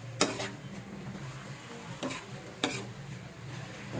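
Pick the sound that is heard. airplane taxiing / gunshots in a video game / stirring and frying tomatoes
stirring and frying tomatoes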